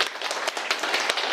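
Audience applause for a priest before a lecture: dense, steady clapping from a room of people, continuous and fairly loud throughout, with no voices over it.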